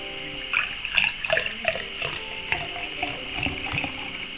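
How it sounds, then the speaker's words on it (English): Homebrewed IPA beer being poured into a glass, a soft trickling and fizzing of liquid with small splashes and bubbling throughout, close up with no talking. "when we pour it off into the glass"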